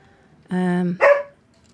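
A dog barks twice at close range, a long sustained tonal bark followed by a shorter, sharper yelp, loud and alone against a quiet background.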